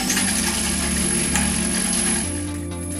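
A CK CKE cutter and emulsifier, its bowl holding a pinch of salt, runs at low speed with a steady mechanical whir and fine gear-like rattling. The pitch shifts slightly near the end and no one speaks.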